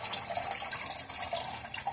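Water rushes steadily and close up as the coupled cistern of an Astra toilet, fitted with an MDU2 fill kit, refills after a flush, a continuous hissing flow with no voices.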